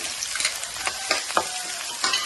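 Onions, green chillies and garlic fry in a pan with a steady hiss and sizzle, broken by a few short scraping stirs, close up and with no talking.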